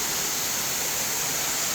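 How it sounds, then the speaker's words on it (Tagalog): Waterfall with a pool below for swimming, a steady broadband rushing roar, close and constant with no voices. "Ayan yung falls niya."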